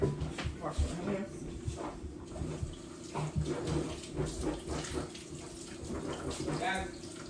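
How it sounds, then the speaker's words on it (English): Hands being washed under a running kitchen tap, a steady splashing water stream throughout, with people talking over it. "Wash my hands."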